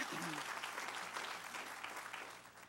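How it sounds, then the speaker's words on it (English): Audience applause at a groundbreaking ceremony, a dense, steady wash of clapping through the whole stretch that tapers slightly at the end, with a brief voice near the start. "Give him a round of applause."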